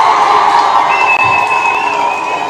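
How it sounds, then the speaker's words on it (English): A live audience cheers and applauds in a continuous crowd roar, loud and close, with a sustained whistle-like tone partway through. "Let's give them a round of applause."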